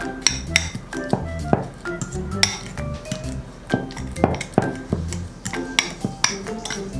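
Spoon clinks and scrapes against a bowl while mashed bananas are mixed with sugar, giving a quick irregular series of sharp metallic taps close by, with no talk.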